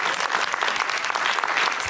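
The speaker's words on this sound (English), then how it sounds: "there should be a round of applause for Nanette" An audience at a talk event with a filmmaker applauds, a dense, steady clatter of many hands clapping that stays even and close throughout the short stretch.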